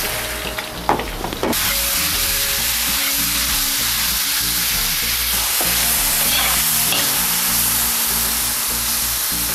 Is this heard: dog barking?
no